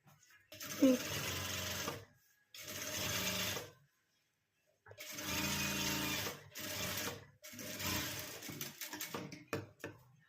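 A domestic sewing machine stitches a zipper onto a small fabric purse made from blouse-piece cloth, running in four separate bursts of steady whirring, each two to three seconds long, with quiet pauses in between.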